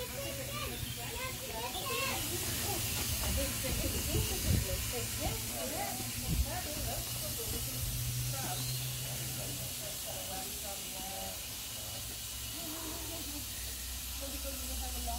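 Loud continuous steam hiss from a steam locomotive on the Groudle Glen Railway dominating the scene, with children's voices and chatter audible underneath throughout.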